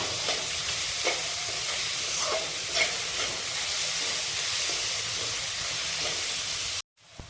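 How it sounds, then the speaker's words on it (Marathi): Finely chopped tomato sautés in a hot pan with garlic cloves for a dried-fish chutney, a steady close sizzle with soft stirring scrapes throughout, cutting off abruptly near the end. "आता त्यामध्ये मी बारीक चिरलेला टोमॅटो टाकते। टोमॅटो पण चांगला परतवून घेते।"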